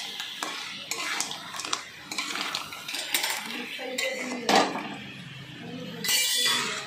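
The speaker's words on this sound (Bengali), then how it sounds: "কাঁকড়া আর কাঁকড়ার দাঁড়া এবারে ভালো করে মশলার সঙ্গে কাঁকড়াগুলোকে মিশিয়ে নিচ্ছি" Fried sea crabs and claws being mixed into a spiced yogurt masala in a pan, heard as irregular metallic clinks and scrapes of a spoon against the pan, close and moderately quiet.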